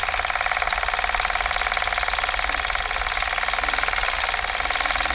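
An AC motor driving a fan load runs at its maximum speed, near its rated 1400 RPM, giving a loud, steady whir with a constant vibrating drone that holds unchanged throughout.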